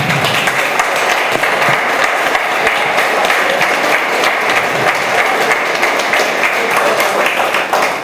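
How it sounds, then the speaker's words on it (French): An audience at a round-table discussion on art and ecology applauds its three guests, a dense, steady wash of clapping from many hands throughout. "Je vous invite à applaudir nos trois invités."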